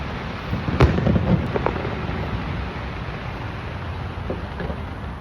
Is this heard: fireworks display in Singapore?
yes